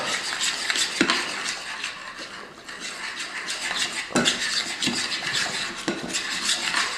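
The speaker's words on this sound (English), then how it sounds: "Really want to mix that well up." A spoon clinks and scrapes around a bowl as a yogurt and lemon tandoori marinade is mixed, with a few sharper knocks against the side between steady rubbing strokes.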